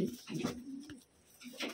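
Taiwan pigeons coo up close in soft, throaty, rolling phrases, with a couple of cooing bursts separated by brief pauses.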